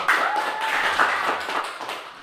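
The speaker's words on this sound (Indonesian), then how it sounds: "Kita beri tepuk tangan lagi ke kelompok 1." Classroom applause for a student group after their presentation, a short burst of many hands clapping at close range, steady and fairly loud before tapering off.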